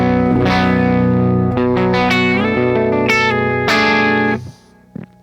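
Guitar through an Orange Rockerverb amplifier on the clean channel with reverb, phaser and delay, a few sustained chords ringing out with shimmering echo before fading away.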